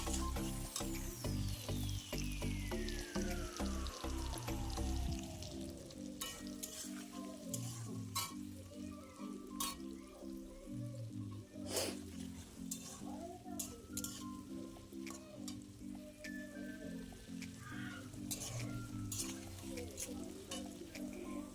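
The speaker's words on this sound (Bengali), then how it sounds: "এবার আলু আর পেঁয়াজটা ভালো করে ভাজবো।" Potatoes and onion fry in a pan for a mutton-fat ghugni, giving a continuous soft sizzle under loud background music, with a few metal clinks.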